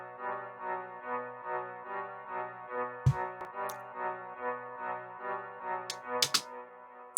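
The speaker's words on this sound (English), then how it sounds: "We started off with the basic piano melody" A basic piano melody for a drill type beat plays sustained dark chords in a slow loop, with a few sharp percussive hits cutting in near the end, no voices.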